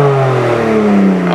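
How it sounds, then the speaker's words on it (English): A BMW E46 with catless headers revs hard, one sustained rising-and-falling engine roar with strong harmonics, loud and close throughout, with no voices. "All you gotta do is rev the shit out of your car"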